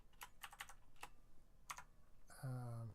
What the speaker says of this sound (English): type in our names